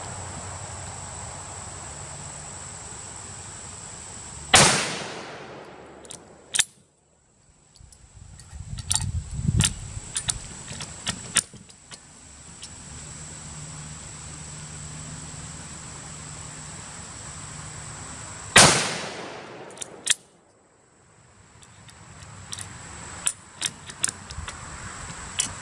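Two loud, sharp rifle shots from a British Enfield .303 No4 Mk1 at an outdoor range, about fourteen seconds apart, each followed by a quick decay and metallic clicks and clatter from working the bolt, with a steady background hum.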